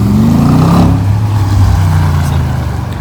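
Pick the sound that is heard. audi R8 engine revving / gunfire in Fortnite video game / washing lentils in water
audi R8 engine revving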